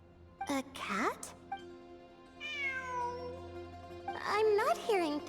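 Cat meows inside a video game: a clear rising meow at the start, a long drawn-out mew in the middle, and several more meows near the end, loud and close, with a steady music bed underneath.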